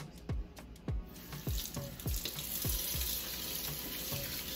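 A kitchen faucet runs cold water over raw chicken breast being rinsed in a sink; a few splashy bursts and drips come first, then the stream settles into a steady close rush.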